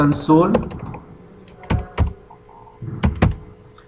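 Clicky computer keyboard keys tapped in short bursts while C# code is written, loud and close, with a brief stretch of talking at the start.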